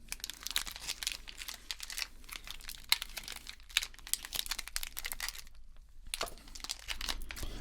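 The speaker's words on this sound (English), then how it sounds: "I'm just going to throw in these 3 chocolate bars for you to take home" Chocolate bar wrappers for a Yorkie, a large Kit Kat Crunch and a Picnic bar crinkle and rustle up close, in irregular bursts of crisp plastic crackling with one short quiet pause.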